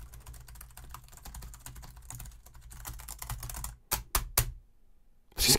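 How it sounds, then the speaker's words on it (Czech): Rapid typing on a computer keyboard captured by a condenser microphone, a dense close-up run of clicky keystrokes that breaks into a few separate sharp taps before stopping. "strkání do klávesnice samozřejmě taky pobere"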